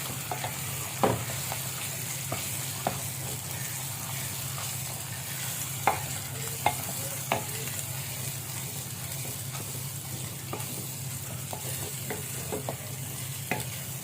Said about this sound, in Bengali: এবার সুন্দর করে ভাজা ভাজা করে নিতে হবে